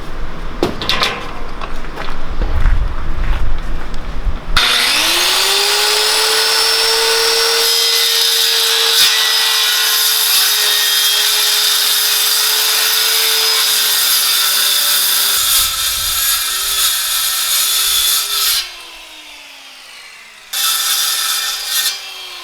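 A Skil circular saw roars up and bites into wood, a loud close whine held under load for about fourteen seconds, dipping briefly before a second short cut.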